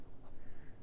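A 1967 Parker 45 Flighter Deluxe fountain pen writing on Clairefontaine 90 gsm paper, a close, soft scratchy rustle of nib on paper with strokes rising and falling, and no voices.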